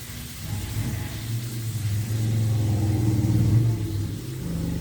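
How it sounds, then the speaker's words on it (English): A motorcycle engine rumbles past, its low drone swelling louder in the middle and then easing off slightly. "someone's riding their motorcycle today"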